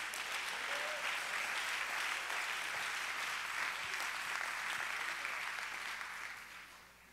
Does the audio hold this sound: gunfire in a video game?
no